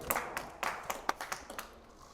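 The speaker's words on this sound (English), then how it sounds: "Little clap from the husband again." A player's husband gives a little clap at a county triples bowls final, a few soft, scattered hand claps, faint and slightly distant, spread over about two seconds.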